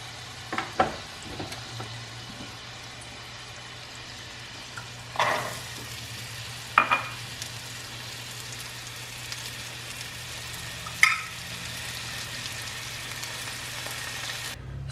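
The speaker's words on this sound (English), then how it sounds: "now we're going to add our ground beef, our onion, garlic, and salt and pepper to this pan. And we're going to let it fry together" Ground beef with onion, garlic, salt and pepper fries in a pan with a quiet, steady sizzle under a low hum, broken by a few sharp spatula scrapes and clinks.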